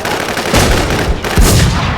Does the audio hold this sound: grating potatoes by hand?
no